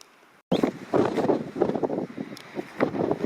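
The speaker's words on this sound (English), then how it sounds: "I'm going to let this tent blow here for a few more minutes" Gusty wind buffets and flaps a tent fabric at an autumn wild camp close to the microphone, rising and falling in uneven bursts after a brief quiet start.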